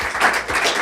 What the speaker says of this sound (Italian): Insomma, un bel applauso.